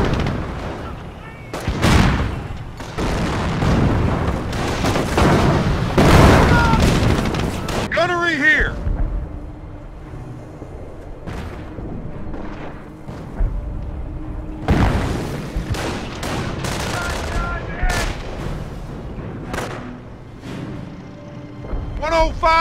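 Artillery fire in the Company of Heroes strategy game, with several heavy booming blasts spread across the stretch amid battle noise, mixed with voice lines and talk.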